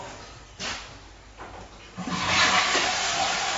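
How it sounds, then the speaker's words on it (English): A toilet flushes in a prefabricated pod home, with a couple of short bumps first and then a rising rush of water that holds steady to the end, close by. "flush the toilet"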